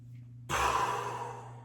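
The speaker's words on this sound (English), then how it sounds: "Take a deep breath in, hold, and breathe out at the finish of the movement." A single deep exhale after a held breath during an exercise, a sudden breathy rush that starts partway in and fades slowly over steady low background hum, close and fairly quiet.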